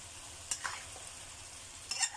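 Eggs in balado sauce simmer quietly in a pan as a spoon stirs them, a soft sizzle broken by two short scraping bursts.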